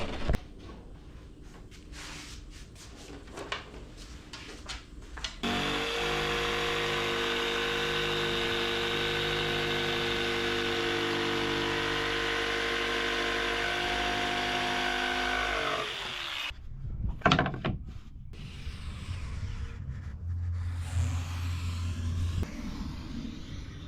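Jigsaw cutting an interior panel, a steady buzzing motor drone with a strong, even tone lasting about ten seconds, preceded and followed by quieter handling noises and clatter.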